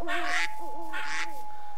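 Birds calling in a Minecraft jungle, with repeated croaking, crow-like caws in two bursts over a steady high tone.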